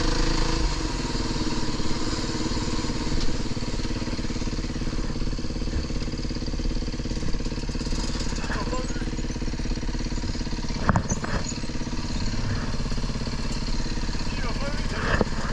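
A Fantic enduro motorcycle engine, a 2025 model, runs steadily and continuously in the background throughout, with people talking over it.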